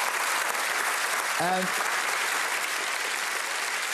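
Applause from a theater audience for a musical, dense and steady clapping throughout, with a man's brief spoken word rising over it.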